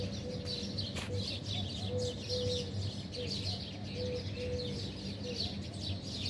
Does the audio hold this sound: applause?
no